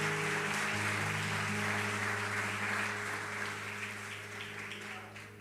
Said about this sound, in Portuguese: Aplaudam Jesus.